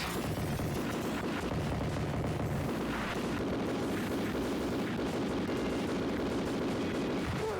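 Rocket launcher explosions in the 1990 arcade game Smash TV, a dense continuous wall of booming blasts and chaotic game noise with no pauses.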